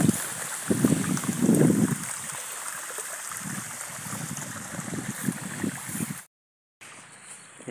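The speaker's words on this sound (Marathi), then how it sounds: "इकडे बघू शकताय, अशा पद्धतीने पाणी चालू केलेलं आहे." Irrigation water runs into a rice paddy field, a continuous rushing, gurgling flow with louder surges near the start, a brief dropout near the end, then a quieter return.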